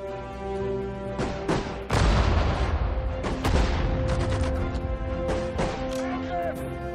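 Gunfire and explosions from the WWII strategy game Sudden Strike 4, Road to Dunkirk, ring out in a battle. Sharp shots and heavy booming blasts recur irregularly over a sustained musical score, with a big detonation near the two-second mark.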